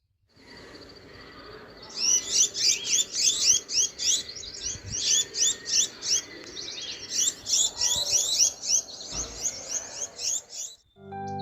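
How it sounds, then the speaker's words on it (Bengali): Many birds call at once in a quiet hill forest near Lava Monastery among pine trees, a dense, repeated chirping and twittering that carries on for several seconds at close to moderate distance, with no talking. "আর তার মাঝে ভেসে আসছে বিভিন্ন পাখির ডাক"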